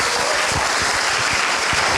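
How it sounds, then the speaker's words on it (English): Audience at a birthday fundraiser event applauding the honoree and his family, a loud, even roar of many hands clapping continuously with no talk over it. "give another round of applause to Baba, the Babas and Kasese Kakuya, and the family of Baba Kamau Sadiki"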